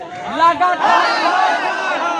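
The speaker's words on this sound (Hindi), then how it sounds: "कितनी भारी संख्या में यहाँ पे जो भीड़ है वो एकत्रित हो गए" A large crowd of 2011 teacher candidates gathered at a sit-in protest fills the air with loud, close voices and babble, with someone speaking over the steady hubbub.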